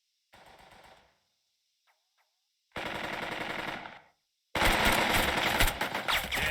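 Gunfire from soldiers in the World War II tactics game Burden of Command, heard as rapid bursts of rattling shots in three separate volleys, each louder than the last, with no talk over them.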